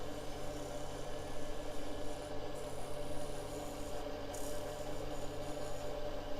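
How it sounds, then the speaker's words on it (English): A round scraper cuts wood on a turning lathe, giving a continuous close rasping, rubbing scrape over the steady hum of the spinning machine, with brief changes in texture as the tool shifts. "I'll just get that with the round scraper."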